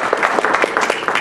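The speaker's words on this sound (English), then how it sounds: "I am clapping because you were listening." Steady hand clapping from a drumming showcase presenter, quick even claps filling the moment, close and fairly loud with no voices.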